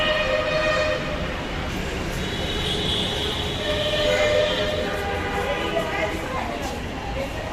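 A metro rail train at the Karwan Bazar station platform in Dhaka gives a continuous broad rumble and hiss inside the station while people talk nearby.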